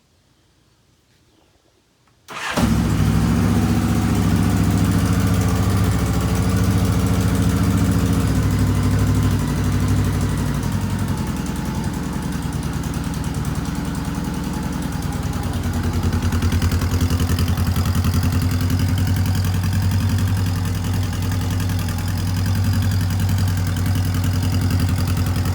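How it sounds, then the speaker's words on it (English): A Honda Goldwing motorcycle with a cold engine fires up on choke after a short silence and settles into a loud, steady, close idle with a slight mechanical clatter that runs unbroken. "There's a cold start for you."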